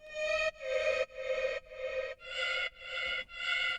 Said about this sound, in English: You could hear the lead is now flying all over the atmosphere